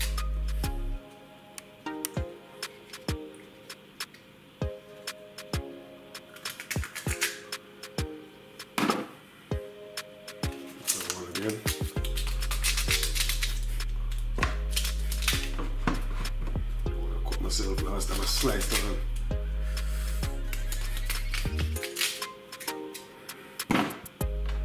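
A knife cuts up chicken for soup in a home kitchen, with sharp taps and clicks on a cutting board and the clink of utensils. Later, a steady electronic beat plays underneath.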